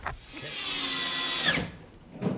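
A power drill mounts 4-inch J-hooks to rafters: one loud whirring burst of about a second and a half, then a short pause and another brief start.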